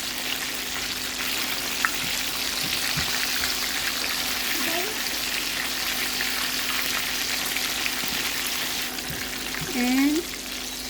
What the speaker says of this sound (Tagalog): Let's fry it for about 6 minutes.